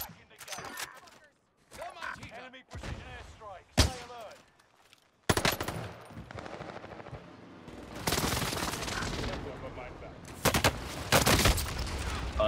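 Rapid bursts of gunfire in Call of Duty Warzone on Rebirth Island, sharp clustered shots that thicken into sustained volleys toward the end, with someone talking over the earlier stretches.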